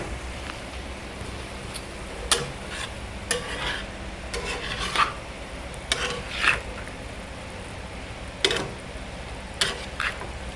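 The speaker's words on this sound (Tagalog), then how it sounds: "Ikalat mo. Halu-haluin." A chicken dish being stirred in a pan with achuete (annatto), a utensil scraping and clinking against the metal in irregular strokes over a faint sizzle, close and moderately quiet.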